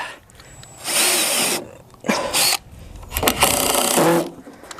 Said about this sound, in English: I'm just drilling a little pilot hole at an angle, just so that I can just come in at an angle with the screws